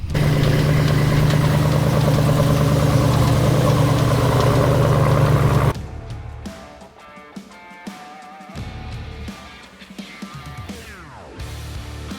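A wood truck's engine runs loud and steady for several seconds while driving, then cuts off abruptly, leaving faint rattles and clanks.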